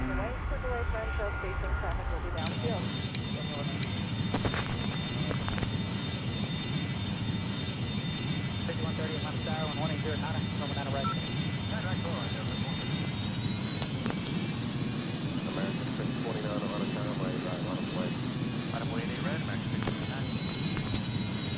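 Boeing MD80 jet engines in the mobile flight game Airline Commander, a steady loud drone with a sustained high whine that rises slightly midway, while a voice talks over it throughout.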